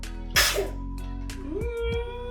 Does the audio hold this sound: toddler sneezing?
yes